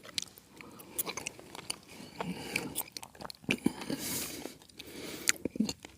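Someone eating beef with sauce at a campsite meal, with soft, irregular chewing and crunchy bites close to the mic; no talking.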